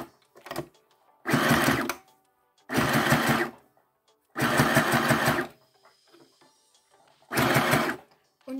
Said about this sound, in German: Und jetzt wird genäht.